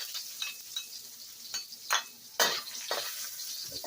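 Ginger sizzles in hot olive oil in a pan, with a steady frying hiss broken by scraping stirs and light clinks of a utensil against metal, close up and without talk.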